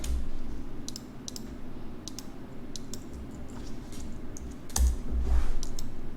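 Typing on a computer keyboard while working in TouchDesigner: quick, uneven bursts of light key clicks and taps, close and clear, with short pauses between the runs.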